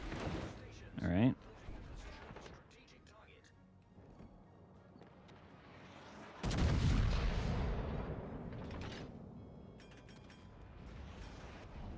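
Warship guns fire in World of Warships: Legends as a few deep booming blasts, one heavy salvo rolling out over a sustained rumble, with a voice talking through parts of it.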